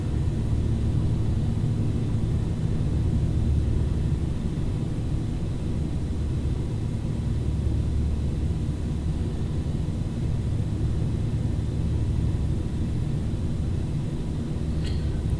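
Carenado Fokker 50 turboprop rolling for takeoff in the Prepar3D flight simulator, a steady, loud low rumble of engines and wheels holding evenly throughout with no talk over it.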